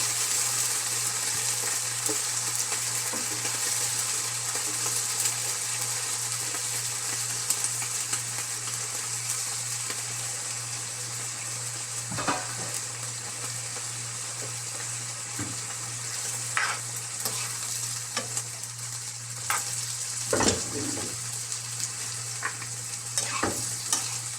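Chopped brinjal fries in a pan for a Kerala koottu curry, producing a continuous dense sizzle with a low steady hum beneath and occasional spatula scrapes and clicks as it is stirred, louder toward the end.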